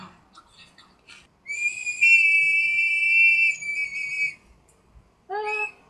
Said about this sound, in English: Sounds like the Titanic whistle.